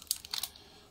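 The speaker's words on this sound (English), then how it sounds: "So when you re-cock the shutter," A Konica C35AF compact autofocus film camera has its shutter re-cocked by lever, producing a quick cluster of small, crisp mechanical clicks and ratchets up close, then quiet.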